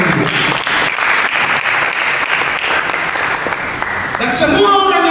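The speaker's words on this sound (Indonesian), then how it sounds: "Berikan tepuk tangan." A church congregation gives loud, dense applause that runs continuously, then fades as a voice and other sounds take over near the end.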